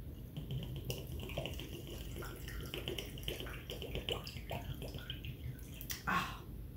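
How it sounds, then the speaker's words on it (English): Ginger kombucha pours over crushed ice into a mint julep cocktail, a soft irregular trickle and fizz with light clinks of ice, ending in a brief louder splash. "now I'm gonna top it off with all of this delicious kombucha"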